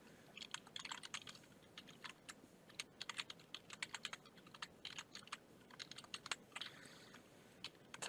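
Python code being typed on a computer keyboard, with quick bursts of soft, close key clicks separated by short pauses, faint and alone.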